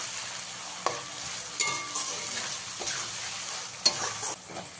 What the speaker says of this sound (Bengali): পেঁয়াজটাকে এখানে ধৈর্য ধরে খুব ভালো করে ভেজে নিতে হবে, একটু লাল লাল করে